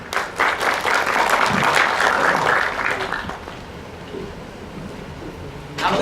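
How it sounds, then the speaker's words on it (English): An audience at an academic conference claps to welcome a keynote speaker, a dense burst of many hands that swells and then thins out to scattered claps before a final short flurry. "Please give him a warm applause."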